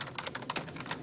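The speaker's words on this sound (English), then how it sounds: "keyboard typing." Rapid, close-up computer keyboard typing, a steady patter of light key clicks with no voices.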